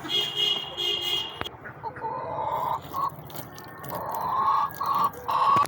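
Pet chickens and roosters clucking on a small farm at feeding time, a steady run of bright repeated clucks near the microphone with background chatter and a voice mixed in.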